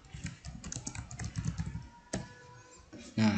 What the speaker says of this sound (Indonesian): Ini tekan di tombol enter aja, kemudian ditekan tombol tab.